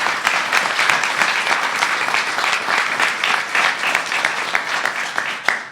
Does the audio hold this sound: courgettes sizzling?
no